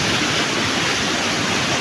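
Fast river water surging past at high speed, a dense, loud, unbroken rushing roar close to the microphone and steady throughout, with no voices.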